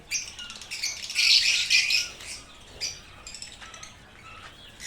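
Caged birds squawk and chirp close by in a dense cluster of shrill, overlapping calls that swell and then thin into scattered chirps.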